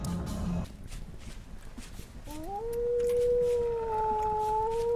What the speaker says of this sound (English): It's definitely a wolf somewhere close by.